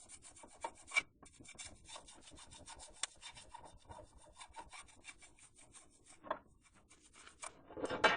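A copper scouring pad scrubs T5 Speed Sealant off a surface, making quiet, irregular rasping strokes with a few louder scrapes.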